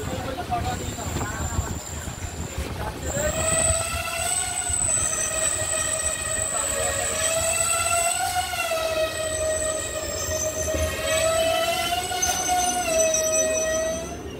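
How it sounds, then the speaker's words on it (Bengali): A train pulling out of Rajchandrapur railway station on the Sealdah–Baruipara route, its wheels squealing in a loud, sustained wavering tone over rumbling carriage noise for most of the stretch, with faint voices in the background. "একদম সঠিক সময়ে রাজচন্দ্রপুর থেকে ছেড়ে দিল আমাদের ট্রেন"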